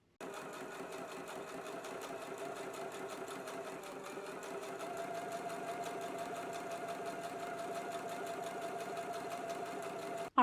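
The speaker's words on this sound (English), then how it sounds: "let's go to the sewing machine now and do some basting stitches" A sewing machine sewing basting stitches runs steadily at close range, its needle clattering in a fast, even rhythm for several seconds before stopping.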